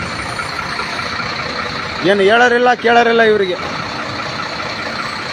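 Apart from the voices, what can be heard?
mine lorries idling in traffic at a checkpoint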